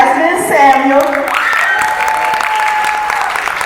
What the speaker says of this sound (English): I want to clap it up for Miss Jasmine Samuel.